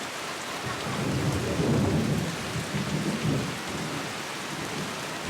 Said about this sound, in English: the sudden and violent storms